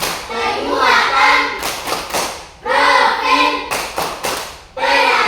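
Schoolchildren clap a rhythmic classroom chant in unison, with bursts of claps and voices at close range, repeated in two or three loud phrases separated by short gaps.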